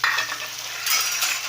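Chopped big onion and two green chilies hitting hot oil in a kadai, a short burst of sizzling with a spoon scraping and stirring against the pan, close and brief.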